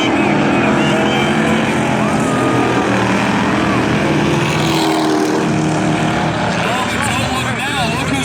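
Modified class race cars on an oval raceway during a feature race, with a loud continuous roar of engines whining past under a commentator's fast play-by-play.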